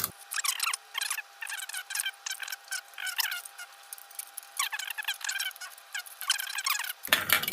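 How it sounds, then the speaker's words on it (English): Scissors snip around an aluminium beer can in rapid, crinkly bursts of thin metallic crunching and squeaking, close and loud, with short pauses between cuts and a low bump at the end. "just far enough that you can get the scissors in and cut along the line that you've just drawn around the can"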